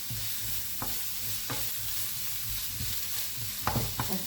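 Onions and mushrooms sizzle steadily in a frying pan, with several sharp scraping stirs cutting through the continuous frying hiss.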